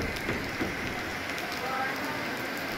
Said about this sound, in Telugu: కుండపోత వాన పడుతోంది